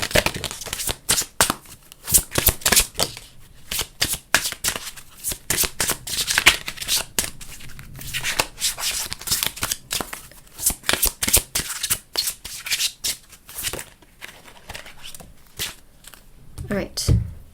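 Tarot cards shuffled by hand in a steady run of crisp riffles and slaps, close and fairly loud, continuing with brief pauses and no talk.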